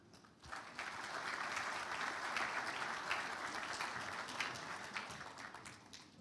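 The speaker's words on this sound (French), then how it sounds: "sous vos applaudissements" Sustained audience applause fills an official opening ceremony hall, building quickly and holding steady as a dense wash of clapping at fair distance, with no speech over it.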